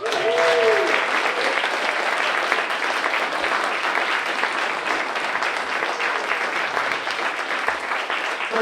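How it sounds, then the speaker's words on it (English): An audience at a talk on the Philadelphia Bail Fund claps steadily in a broad, sustained round of applause that holds at full strength for several seconds, with a brief tone at the start. "can we get one more round of applause"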